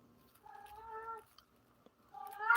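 A house cat gives two drawn-out, tonal meows close by, the first long and wavering, the second starting after a short pause and rising at the end, in an otherwise quiet room.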